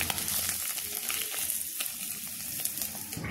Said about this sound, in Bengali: দিয়ে দিচ্ছি তেজপাতা ফোড়ন, একটু পেঁয়াজ দিলাম